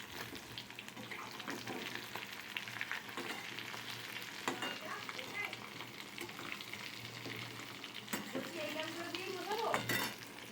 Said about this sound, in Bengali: বড়া কটা ভেজে নিচ্ছি। সব কটা বড়াই ছেড়ে দিয়েছি, বড়াগুলোকে আমি একটু উল্টে দিচ্ছি।